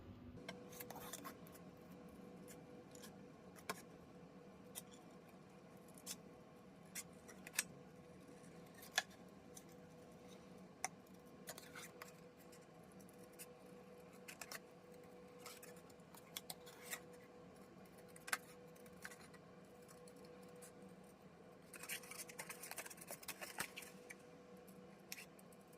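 Scissors snip steadily through paper, trimming the white border off a handmade card from an April 2023 Paper Pumpkin kit, with quiet, close, irregular cuts over soft background rustle and no talking.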